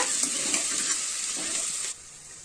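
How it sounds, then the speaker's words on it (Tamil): Onions sauté in hot oil in a pan for a mutton keema biryani, a steady, close hissing sizzle with faint stirring scrapes, which drops away abruptly near the end. "செவந்து வர வரைக்கும் நம்ம வதக்கிட்டுலாங்க"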